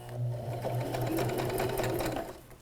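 An electric sewing machine runs a close zigzag stitch on fabric for a bag, a steady rapid mechanical whirr with rhythmic needle clatter heard up close and alone.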